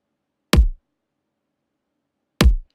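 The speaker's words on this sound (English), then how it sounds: "I layered it over with another more crunchy kick" Two punchy, crunchy layered kick drum hits from a trap beat, alone and close, spaced almost two seconds apart with silence between.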